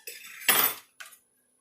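A metal spoon scraping and clinking against a plate while serving rice, with a few close, short clatters followed by silence.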